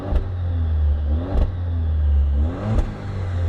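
Stock-exhaust Alfa Romeo Giulia revving up close, three quick throttle blips rising over a steady, deep idle rumble.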